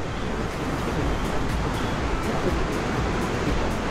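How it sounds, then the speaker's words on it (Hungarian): Ocean surf rolls in a steady, continuous wash of broadband noise at the shore, filling the background at an even loudness throughout. "Talán a hullámzás annyira nem zavar bele a hangba."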